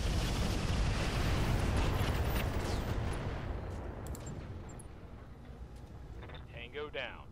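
Mech weapons fire in a heavy, continuous barrage with rumbling explosions in the Roguetech video game. The roar gradually fades toward the end, and a faint voice is heard briefly near the close.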